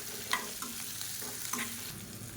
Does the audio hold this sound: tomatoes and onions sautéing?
yes